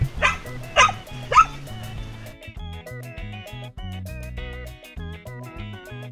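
Guard dogs on fenced properties on St. Eustatius give three sharp, close barks in quick succession, then music carries on without them.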